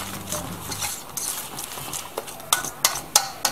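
Spinach crepe batter made with powdered milk being whisked in a bowl: a soft, continuous swishing stir, then several sharp clicks of the whisk against the bowl, close up.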